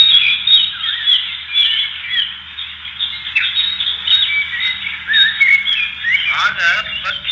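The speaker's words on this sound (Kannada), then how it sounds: "ಆಗ ಪಕ್ಷಿಗಳು ಅಜ್ಜಿಯ ಬಳಿಗೆ ಬಂದಾಗ" Birds chirp and twitter steadily near a large tree at a forest's edge, a busy layered sound effect for a staged skit, continuous and fairly loud with no voices over it.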